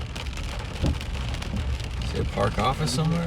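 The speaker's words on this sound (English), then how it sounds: "it's raining pretty good out here" Steady rain falling at a KOA campground, a dense hiss of drops drumming on a vehicle and surfaces throughout, while people talk inside over the downpour.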